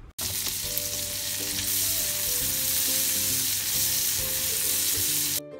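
Onions are added to butter and browned garlic in a pan and sauté with a steady, close, crackling sizzle that runs nearly unbroken, with a few faint clinks of stirring.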